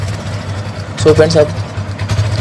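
A Hero Super Splendor motorcycle engine, self-started on the first try with a new Amaron battery, idles steadily with a low rumble while someone speaks over it.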